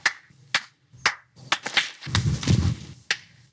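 Several sharp, isolated claps ring out one after another, close and dry with quiet gaps between them, then a low muffled rumble comes through under the later ones, like a film clapperboard slate being struck.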